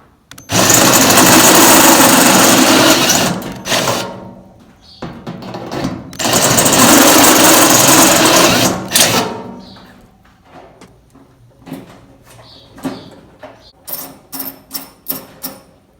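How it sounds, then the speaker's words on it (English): A drill drives a step bit through gas grill metal, two long loud grinding runs separated by a pause, followed by quieter scattered clicks and taps. "I'm just going to take this step bit. We'll enlarge these holes one more step."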